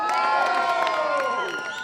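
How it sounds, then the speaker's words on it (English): Crowd at a Covent Garden street show in London cheers and whoops together, with children shouting among the adults, a loud, dense burst that holds steady and then tails off slightly. "where's the big cheer?"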